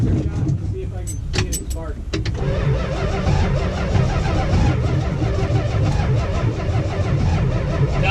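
A 1971 Dodge Demon barn-find engine cranking without firing, its starter churning steadily while old mouse nest blows out the tailpipe, with people talking over it.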